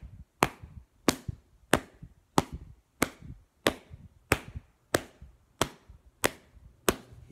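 Hands pat on the body or lap in a steady beat, eleven even dull thumps with a soft low body, close and alone.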